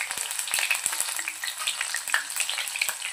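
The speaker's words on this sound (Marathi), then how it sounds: "तेल बघा छान गरम झाले। आता यामध्ये आपण मोहरी, उडदाची डाळ," Mustard seeds, urad dal and green chillies crackle and sizzle in hot oil for a rava upma tempering, a busy, close hiss with scattered sharp pops throughout.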